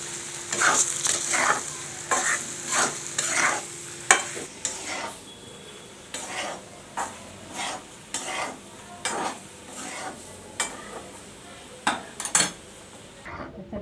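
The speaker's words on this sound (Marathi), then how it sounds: "आता हा मसाला आपल्याला हवा तितका याच्यात ॲड करायचा आहे मिक्स करून घ्यायचं चांगलं" Stuffed bitter gourd is stirred with masala in hot oil, a soft sizzle under a steady rhythm of spoon-on-pan scrapes and clinks repeating every second or so.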